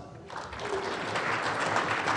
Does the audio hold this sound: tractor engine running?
no